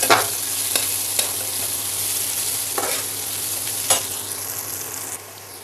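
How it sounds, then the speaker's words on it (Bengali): Chopped chilli and onion turned over in hot oil and ghee, a dense steady sizzle with a few scraping stirs of the spatula, close and even in level, without any speech. "এবার আমি তেল আর ঘির সাথে ভালোভাবে মরিচ আর পেঁয়াজটা নেড়ে চেড়ে নেব।"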